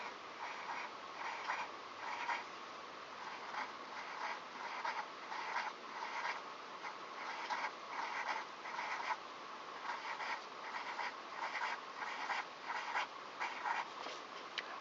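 A pen scratching out a drawing of embryo cells on paper, soft rhythmic strokes repeating steadily and faintly, close by and alone with no talking.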